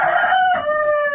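A rooster crows once, loud and close, a drawn-out tonal call from inside a small backyard chicken coop.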